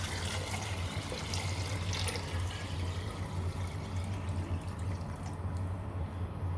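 Water pours steadily from a tap into a pot holding lamb and wheat for Iraqi harissa, a continuous close, fairly loud rushing stream with no pauses and no voices over it.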